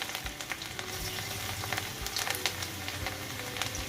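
Chopped garlic sizzles steadily in hot oil in a wok while gravy for restaurant-style chilli chicken is started, with a continuous bright crackle and occasional low knocks of utensils throughout.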